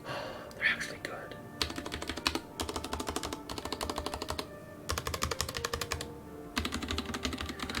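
Typing on a Hansung TFG ART mechanical keyboard, fast close bursts of clacking keystrokes separated by short pauses, with a few soft bumps at the start.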